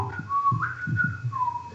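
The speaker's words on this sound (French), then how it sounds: "Tyrion la sifflote dès l'épisode 1 de la saison 2" Whistled melody of a tune from Game of Thrones, a short, clear human whistle of several sliding notes, close and alone, with faint breathy sounds between them.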